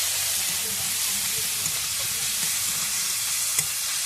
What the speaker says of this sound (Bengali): সেই কাঁচা গন্ধ চলে যাওয়া পর্যন্ত আমি মশলাটাকে ভেজে নেব।